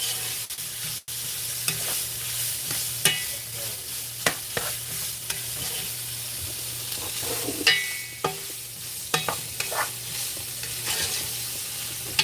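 Onions with added protein sizzle and fry in a pan, a steady hiss broken by scattered pops and the clinks and scrapes of stirring.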